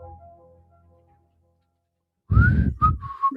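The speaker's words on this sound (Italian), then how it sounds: "avete sentito la versione fischiata" Someone whistles a few notes of the Verdi chorus "Va, pensiero" in a radio studio, clear sustained tones in short phrases that follow a faint hum and a stretch of silence.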